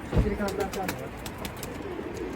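Pigeons coo in a multi-storey coop, a soft, steady murmuring up close, with a person's voice mixed in.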